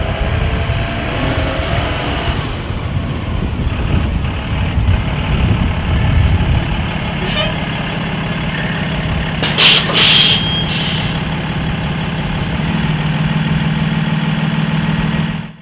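A school bus pulling to a stop with its diesel engine idling and a sharp hiss as the air brake is set, over steady low rumble, with faint beeping nearby.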